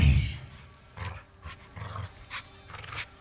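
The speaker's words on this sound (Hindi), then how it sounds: "ये कुत्ता कुछ कुछ खा रहा है" A dog in the video game Layer of Fear 2 eating, with a series of short, growling, snuffling bursts at an uneven rhythm, fairly close and loud, with no talk.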